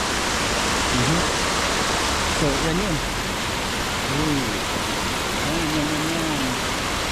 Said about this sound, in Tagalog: Ganyan ang ilog.